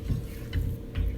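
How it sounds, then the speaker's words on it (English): Choux pastry dough being stirred in a pot, a brief close scraping and thudding of spoon against the pan with soft rhythmic strokes. "Stir, stir, stir, that's all we're doing."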